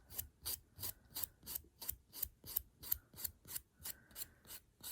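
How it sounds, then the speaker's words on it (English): A nail file rasps along the sides of dip powder nails in steady, evenly spaced strokes, each a short scratchy swipe, close and clear with no talking. "if you need to contour the sides a little bit, just gently file those"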